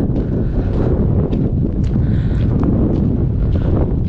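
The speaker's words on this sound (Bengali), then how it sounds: "জোর হাওয়া বইছে যথারীতি চারদিকে" Strong wind buffets the microphone at the high Aq-Baital Pass on the Pamir Highway, a loud continuous low roar with no break.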